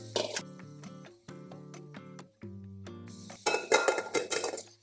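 Clinks and knocks of a large bowl holding meringue being set down and handled, with metal beater and dish contacts ringing in short bursts separated by brief silences, ending in busier clattering.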